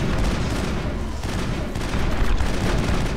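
Dense, loud gunfire in the video game Mass Effect, a continuous roar of overlapping shots and impacts with no clear gaps, with rougher blasts toward the end.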